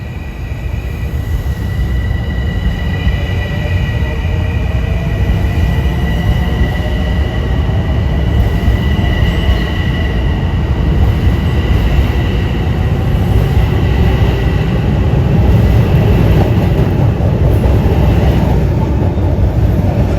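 Commuter trains roll through Harlem 125th Street station during rush hour, a steady loud rumble of wheels and cars with faint high squeals drifting over it, continuous throughout without talk.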